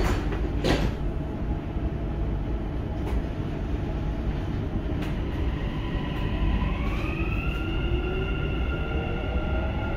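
A Dubai metro train travels between stations through the city, heading toward Expo 2020. A steady loud rumble of wheels and carriage fills the cabin, a few brief clicks cut through it, and a rising motor whine climbs in pitch as the train speeds up.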